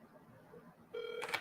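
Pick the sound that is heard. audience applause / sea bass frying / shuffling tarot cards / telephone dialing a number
telephone dialing a number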